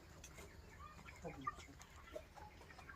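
Chickens on a poultry farm cluck faintly and sporadically against a low, steady background hum, with soft scattered calls and no single bird standing out.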